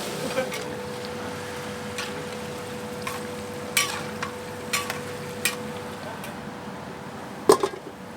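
Chicken karaage deep-frying in oil while catering food is prepared, with a steady sizzling hiss, a faint hum and a few sharper crackles and pops throughout.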